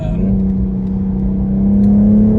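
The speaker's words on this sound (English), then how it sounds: "That is an inline 6-cylinder BMW." The inline six-cylinder engine of a BMW M240i xDrive revs with a smooth, steady drone that climbs slightly in pitch toward the end, heard up close and loud with no voices over it.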